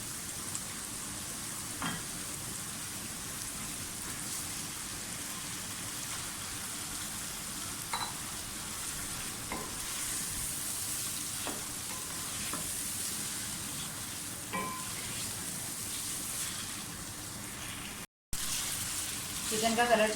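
Chicken sizzles and fries in hot oil with whole spices for a spicy Karachi-style biryani, a steady crackling hiss throughout with occasional stirring clicks and a brief drop near the end.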